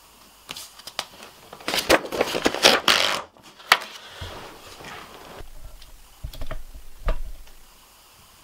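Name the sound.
cutting out paper shapes for paper cut art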